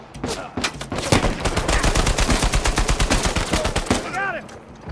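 Rapid gunfire in an Uncharted 4 mountain firefight, a dense, fast string of loud close shots for several seconds, then tapering off as a voice speaks near the end.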